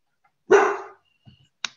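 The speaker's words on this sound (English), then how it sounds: "A dog." A dog barks once, loud and close at an open mic poetry night, followed by a couple of faint softer sounds and a sharp short yip-like click.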